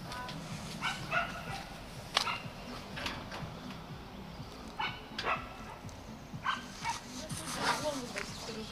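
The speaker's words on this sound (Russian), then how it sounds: "Какая-то собачка гавкает." Small dog barks repeatedly in short yapping bursts from some distance outdoors, with gaps between barks and people talking nearby.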